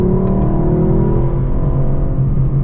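Lexus LC500 engine droning steadily at high revs without upshifting, a loud continuous in-cabin roar that holds one sustained pitch throughout.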